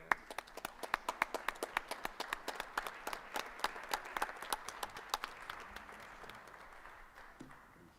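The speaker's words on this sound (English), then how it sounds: "we may as well clap them up here, too." Audience at a school board meeting claps as a boys' state-placing team walks up onto the stage, sharp individual claps from a modest crowd in an irregular, distinct rhythm that thins out and fades toward the end.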